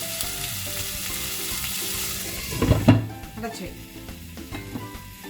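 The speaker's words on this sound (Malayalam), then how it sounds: "നമ്മുടെ തക്കാളിക്ക് ഇതിനകത്ത് വഴന്ന് കിടന്നൊന്ന് ചെറുതായിട്ടൊന്ന് വേവട്ടെ" Chopped tomatoes and onions sizzle steadily in a pan on the stove for palak paneer, a continuous close frying hiss with a brief louder clatter partway through.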